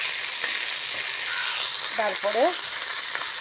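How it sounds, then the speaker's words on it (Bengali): Pointed gourd (potol) frying in a pan gives a steady, loud broadband sizzle, with a brief scraping, whining stir sound partway through and a few soft words spoken over it. "পটলটা ভাজি হয়ে যাচ্ছে, হালকা আবার আস্তে একটু ভাজতে হবে"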